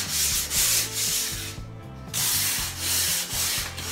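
Drywall mud being sanded by hand, a close, rhythmic scratchy rubbing in repeated back-and-forth strokes with a brief pause midway.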